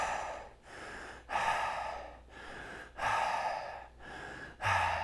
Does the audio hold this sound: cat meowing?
no